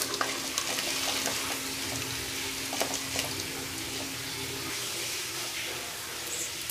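Cashews and dried red chilies frying in oil for coconut rice, a steady bright sizzle with occasional clinks of a spoon stirring the pan, close and continuous without speech.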